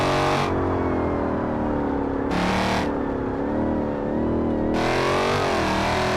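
A loud American muscle car engine in the video game BeamNG.drive roars continuously, revving up and down as gears shift, with a racing whine filling the whole stretch.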